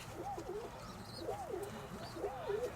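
A pigeon coos three times in evenly spaced, rolling phrases over a low background hum, close but soft.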